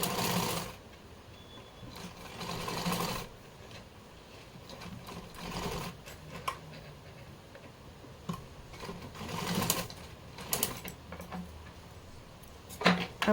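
A domestic sewing machine stitches lace onto a small Laddu Gopal deity dress, running in irregular bursts of rapid ticking mechanical stitching, close and moderately loud, with pauses and handling clicks between runs.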